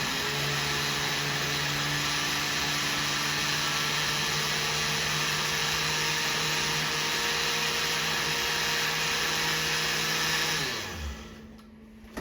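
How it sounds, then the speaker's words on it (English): A kitchen blender purées strawberries with a loud, steady motor whir that holds for about ten seconds, then winds down and stops. "And then we'll just puree this a little more."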